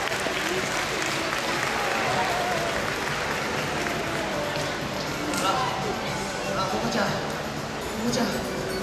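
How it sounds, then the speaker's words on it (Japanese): An audience at a live comedy show claps steadily for several seconds, a broad even wash of applause with light crowd murmur and occasional voices underneath. "はい、拍手を皆さん、"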